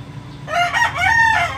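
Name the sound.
rooster crowing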